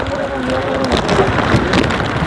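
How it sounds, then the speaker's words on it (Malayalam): Steady rain hisses continuously across the whole clip in Ooty, with a faint tonal hum early on and scattered louder patters. "നല്ല മഴയാണ്"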